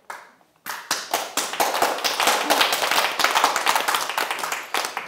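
Audience at a Daejonggyo headquarters history lecture in Hongeun-dong, Seoul, breaking into clapping after a brief quiet start, growing into steady, fairly close applause of many hands that carries on to the end.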